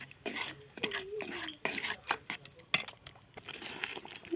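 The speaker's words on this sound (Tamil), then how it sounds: "சர்க்கரை போட்டு நல்லா கிண்டிக்கிடுவோம்." A spoon stirs mango pachadi with sugar in a pot, with soft scraping and light clinks of metal, faint and close, mixed with a little background voice.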